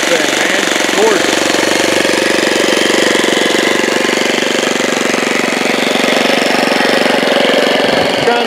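A four-stroke nitro engine on an RC biplane runs steadily up close, a loud, continuous buzzing drone that holds level throughout, with no clear speech over it.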